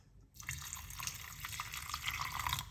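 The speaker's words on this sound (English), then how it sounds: "just pour some water on it" Water poured over drink ingredients for an overnight cleansing drink, a steady close splashing and trickling pour that begins after a brief silence and runs continuously with no talk.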